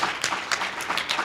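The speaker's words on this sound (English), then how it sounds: "Give a big round of applause for him and his volunteers tonight" Short burst of audience applause for a keynote speaker at a Xerox event, a crowd clapping steadily at moderate loudness.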